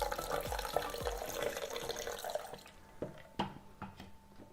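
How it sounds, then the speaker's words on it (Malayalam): Water is poured into raw mango juice mixed with lime juice, a close splashing trickle for a couple of seconds that tapers into a few scattered drips. "ആവശ്യത്തിന് വെള്ളം ഒഴിച്ചു കൊടുക്കാം."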